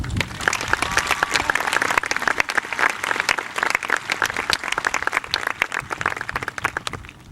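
Sustained crowd applause at a high school graduation ceremony for the graduates' parents, dense clapping from many hands filling a large hall, loud and steady throughout.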